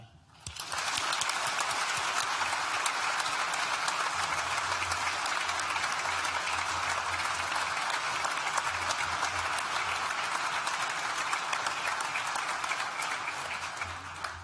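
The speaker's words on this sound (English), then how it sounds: "So just one final thank you and one final round of applause." A large audience at a university graduation ceremony breaks into sustained applause, a dense, even roar of clapping that swells in after a quiet opening moment and holds steady.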